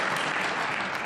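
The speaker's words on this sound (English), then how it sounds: "Listen to the" Crowd applause at a 2024 US Open Pool Championship quarter-final match, a dense, steady wash of clapping from a large audience filling the whole brief moment without talk.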